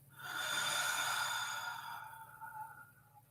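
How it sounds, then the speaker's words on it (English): A slow, deep breath during a full moon meditation, a soft airy inhale swelling and then easing into a long fading exhale, close and quiet with no talking. "Take another deep breath in"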